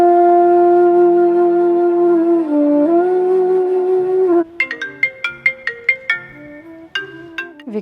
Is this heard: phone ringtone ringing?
yes